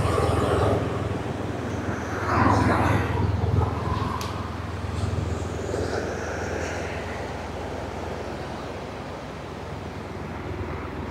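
Military aircraft passing overhead near a tall ships parade of sail, a broad low rumbling roar that swells and fades under wind noise on the microphone, with no voices.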